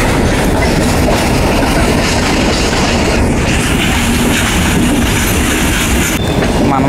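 The Coromandel Express runs alongside a goods train on Indian railway track, heard from inside as a loud, constant roar of wheels and carriages with rhythmic clatter throughout.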